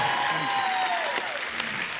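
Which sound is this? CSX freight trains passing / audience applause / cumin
audience applause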